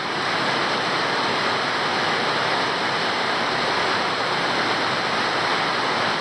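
Dense, constant hiss of heavy rain pouring down, loud and unbroken throughout with no talking.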